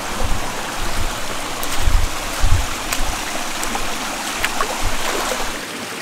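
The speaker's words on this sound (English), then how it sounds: "little morning dip in the river" Mountain river water rushing and splashing during a morning dip, a continuous close stream wash with irregular louder splashes and low thumps, no talking.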